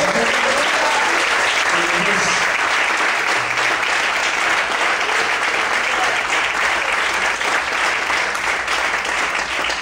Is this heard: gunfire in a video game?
no